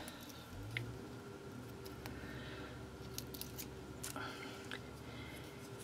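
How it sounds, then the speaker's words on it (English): Scissors snipping through jewelry cord, cutting it into pieces for a fall maple leaf necklace; a few crisp, close cuts stand out from a quiet room background, spaced irregularly. "So I'm going to use this, and I'm going to cut it into pieces."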